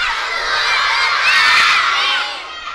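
A studio audience of children shouts loudly together on a Brazilian TV kids' show, a sustained roar of young voices that swells and fades over a few seconds.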